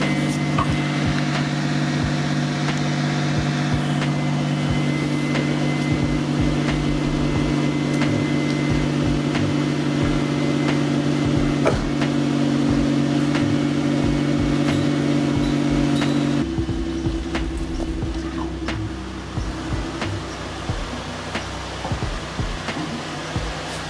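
A car engine idling while it warms up before dawn, a steady close hum with a sustained low tone that drops to a quieter, lower pitch partway through and keeps running.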